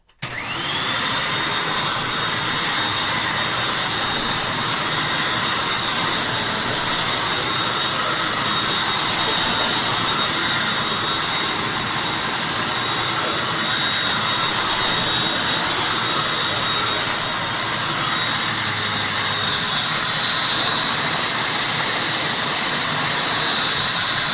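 Hoover Windtunnel self-propelled upright vacuum cleaner running continuously, a loud, steady, close-up roaring whine with a high motor tone that starts abruptly and holds unchanged, no talking.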